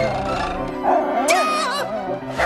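Cartoon Pekingese dog yapping and whimpering in a series of high, squeaky barks close up, overlapping with animated character voices.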